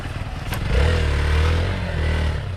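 A KTM Adventure 390 motorcycle rides an off-road trail into an orchard in Purulia. Its engine hums close by, then swells into a stronger, sustained drone before easing slightly, with some clattering over rough ground.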